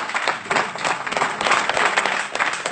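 Church congregation clapping together during a sermon, a loud, dense burst of applause from many hands that holds steady for a few seconds, with no speech over it.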